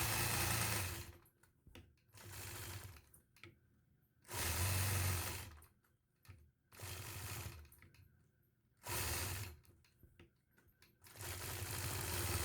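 A sewing machine quilting a block runs in repeated bursts of fast, even stitching, each a second or two long, with short quiet pauses between them.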